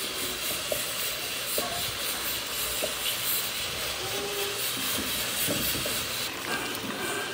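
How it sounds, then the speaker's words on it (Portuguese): Meat searing in a pan with seasonings sizzles and hisses steadily throughout, a dense close frying noise with occasional small pops. "Ele ficou aqui uns 5 minutos fritando, pegando cor, pegando cheiro."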